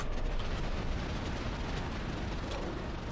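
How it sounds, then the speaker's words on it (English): Continuous broadband rumble of a delayed explosion in the game Enter the Gungeon, a loud, sustained roar lasting several seconds without any speech over it. "You ready for another weird delayed sound effect explosion here?"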